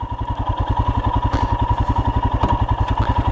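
A 2022 Royal Enfield Himalayan motorcycle engine runs close by with a steady, fast thumping idle pulse, a couple of faint clicks suggesting a gear being selected, and no talking.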